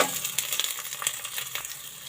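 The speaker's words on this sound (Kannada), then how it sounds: "ಒಂದು 10 ಹಸಿಮೆಣಸು ಫ್ರೈ ಮಾಡ್ಕೋಬೇಕು" Green chillies along with onion and ginger fry in a pan for mixed vegetable sambar, a brief close sizzle with quick scraping stir strokes and small pops.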